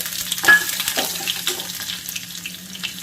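Crushed garlic and green chilli drop into hot oil for a bean curry, a bright crackling sizzle with a sharp burst at the start that settles into a softer, steady frying hiss.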